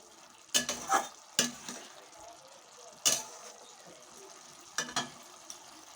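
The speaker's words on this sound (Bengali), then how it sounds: "তো এরপরে আমি দিয়ে দেবো ভেজে রাখা আলু আর ডিমগুলো, দিয়ে আবারও বেশ ভালোভাবে নেড়ে চেড়ে নেব।" Fried potatoes and eggs stirred in a cooking pot, with a handful of separate scraping strokes over a faint background sizzle and quiet gaps between them.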